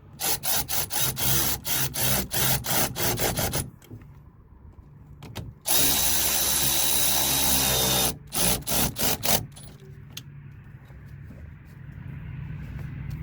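A power tool or ratchet runs in rapid bursts while battery cable terminals are tightened down on a Chevrolet Suburban, with a long continuous whir in the middle and quieter working noise at the end.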